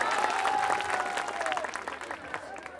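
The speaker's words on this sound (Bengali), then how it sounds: "সবাই আরেকবার জোরে করতালি দেই" An audience applauds at a picnic event while a CEO is presented with flowers, a dense, sustained wash of clapping from a crowd with voices mixed in, thinning slightly toward the end.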